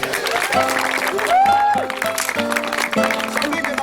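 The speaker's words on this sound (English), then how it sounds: "Let's give a round of applause for Biggin, everybody." A crowd claps and cheers in a steady burst of applause, with music or tones playing alongside it.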